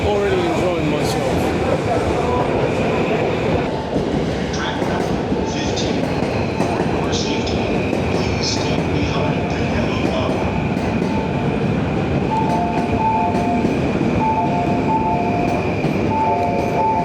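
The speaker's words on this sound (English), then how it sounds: "This is the Yamanote Line train bound for Ikebukuro." Riding a Yamanote Line train in Tokyo: a steady, loud onboard rumble of wheels on track with soft clacks and a thin squeal, while a voice and announcements run over it.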